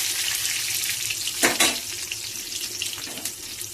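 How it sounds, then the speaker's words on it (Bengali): Chopped onions hit hot oil in a wok with a loud burst of sizzling, then settle into a steady, close frying hiss, with a brief stirring scrape partway through. "এরপর আমি কেটে রাখা পেঁয়াজগুলো দিয়ে দিলাম কড়াইয়ের মধ্যে"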